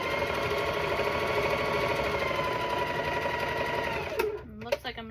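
A sewing machine runs steadily, stitching rows of a cat-themed quilt together, with a continuous motor whir that stops near the end, followed by brief handling noises.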